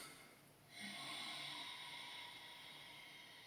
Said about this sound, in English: In yoga we call it oceanic breath or ujjayi breath.